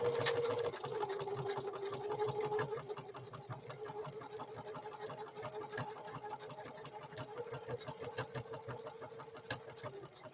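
A Necchi NE30 sewing machine sews a long overlay decorative stitch. Its motor hums steadily while the needle taps in a fast, even rhythm throughout, fairly quiet and close, with no voices.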